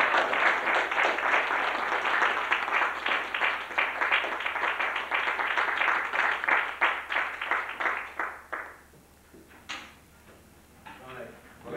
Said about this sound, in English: Would you help me by clapping and putting your hands together